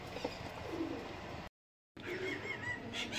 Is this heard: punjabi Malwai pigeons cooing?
yes